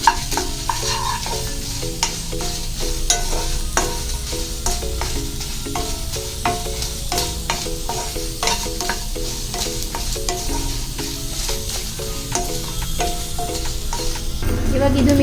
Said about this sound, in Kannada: ಬರೀ ಒಣ ಪದಾರ್ಥಗಳ ಫ್ರೈ ಮಾಡಿಕೊಂಡ್ರೆ ಸಾಕು